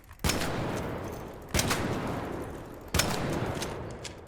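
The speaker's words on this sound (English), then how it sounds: "This is what the normal roll looks like when you shoot." Three evenly spaced gunshots ring out from a single-shot gun in a PvP video game during a normal roll, each with a sharp, loud attack and a long sustained tail.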